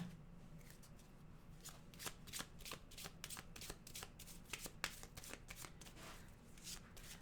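Tarot animal cards are shuffled close to the microphone in a steady run of quick riffling flutters and soft slaps, continuing for several seconds with no talking.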